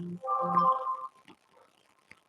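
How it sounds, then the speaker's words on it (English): Work phone message notification plays a short two-part electronic chime, loud and close, then fades into near silence with a couple of faint clicks. "Somebody's messaging me."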